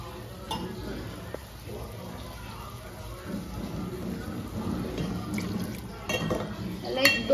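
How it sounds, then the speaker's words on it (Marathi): A little water goes into a pot of marinated chicken cooking with tomato and green chilli for biryani, with a soft pour amid clinks of a metal pot and utensils and some stirring, and a voice speaking nearby. "आणि थोडंसं पाणी टाकते"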